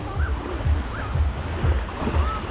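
Black Sea surf at a seaweed-strewn beach near Vityazevo, Anapa, washing in steady low rolls under heavy wind buffeting the microphone.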